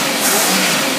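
Car engine fitted with a Carter AFB 9510 carburetor, running with no load, revs hard and steadily, a loud continuous roar close to the microphone with no talk over it.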